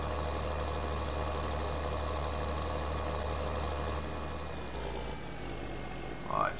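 Tractor engine in the video game Farming Simulator 2013: a steady low rumbling drone, continuous and close, shifting slightly in pitch near the end with a brief louder burst.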